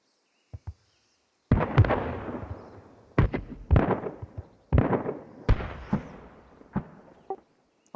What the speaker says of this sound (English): Also, looks like heavy mortar fire landing on radio station.